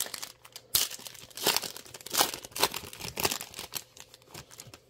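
A foil pack of Topps Chrome Black baseball cards is torn open and crumpled close by, bursts of crinkling wrapper noise in quick uneven waves, with no voices.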